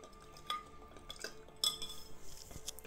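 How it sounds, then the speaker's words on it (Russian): A spoon stirs a vodka and mint cocktail in a glass, giving a few light clinks and scrapes, with a sharper knock near the middle, close and fairly quiet. "Перемешиваем."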